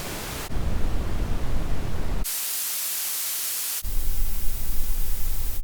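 Broadband noise plays in three back-to-back blocks, each with a sharp switch: a rumbling pink-like hiss, then a bright, thin white-like hiss, then a fuller, balanced gray-like hiss. All are loud and steady, with no talk.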